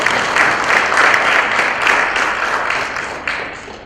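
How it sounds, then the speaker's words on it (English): Loud, close applause from a conference audience, a dense patter of clapping with a few sharper claps standing out, tapering gradually over four seconds. "Could we give her a round of applause, please?"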